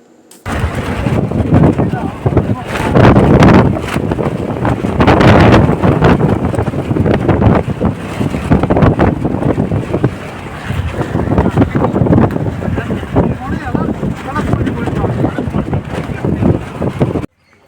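Strong wind buffeting the microphone in continuous loud gusts, with rushing air and a faint background rumble throughout.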